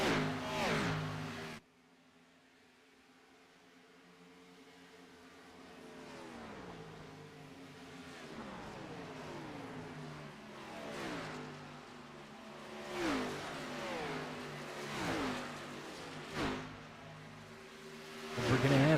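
Stock race cars in an Xfinity Series race at Auto Club roar around the track in a simulated event, engines rising and falling as several cars pass in repeated waves, moderately loud, after a brief loud opening burst.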